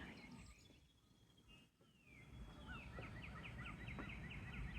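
Birds chirp and trill repeatedly at a distance around 6:40 in the morning over a low ambient hum, with quick rhythmic tweets growing busier toward the end.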